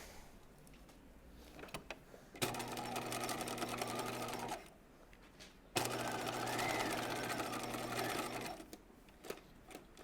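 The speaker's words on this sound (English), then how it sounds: "I'm going to sew the center back seam, which is the short edge here." A sewing machine stitches the short center back seam of a raglan top in two steady bursts of about two and three seconds, with quiet handling and fabric rustle before, between and after.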